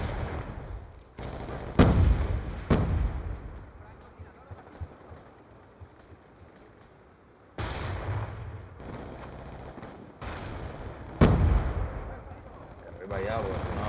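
Grenade blasts and gunfire in the Call of Duty Black Ops 2 multiplayer shooter on PS3: several loud, sharp bursts and booms punctuate steady battle noise, with shots recurring through the scene.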